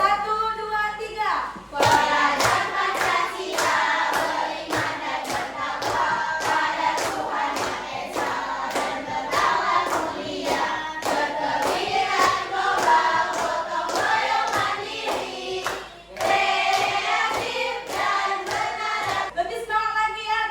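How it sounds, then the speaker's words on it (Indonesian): Schoolchildren in an Indonesian classroom clap a rhythmic Pancasila lesson chant together, sharp claps running in a steady repeated pattern over twenty seconds alongside voices, with a brief pause near the start and another midway. "Masih ingat tepuk pelajaran Pancasila?"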